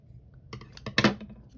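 Scissors snip through white yarn during a crochet project, a short crisp cut with a small clatter, close and alone.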